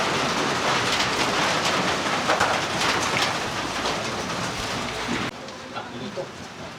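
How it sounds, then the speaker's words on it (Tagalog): Steady rain pours down outdoors as a dense, even hiss that continues at a moderate level and softens slightly near the end. "Ang ulan na naman, no?"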